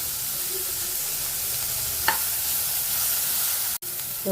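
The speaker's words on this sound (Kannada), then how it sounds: "ಈರುಳ್ಳಿ ಫ್ರೈ ಆಗಲಿ. ಸ್ವಲ್ಪ ಕರಿಬೇವು ಹಾಕ್ತಾ ಇದ್ದೀನಿ." Curry leaves dropped into onions frying in a pan for a potato, green pea and capsicum dry curry, giving a steady soft sizzle with one brief louder crackle and a quick stir, no talking.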